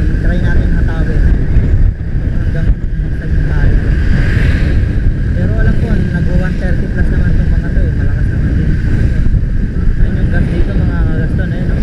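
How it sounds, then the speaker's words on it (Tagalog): Strong wind buffets the microphone in a steady, loud roar while riding a Yamaha Sniper 150 motorcycle, with low rumbling throughout and voices faintly heard beneath it. "medyo malakas lang yung hangin"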